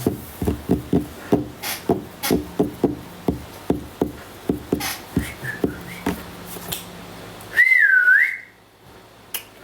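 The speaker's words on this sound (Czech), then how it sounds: "To bylo hvízdanec" After a run of rhythmic knocks, a person gives a short, loud, wavering whistle close to the microphone, then quiet.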